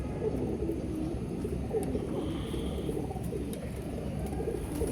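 Ferozpuri pigeons coo in a steady, close murmur of overlapping low calls, with faint chirps above and no talking.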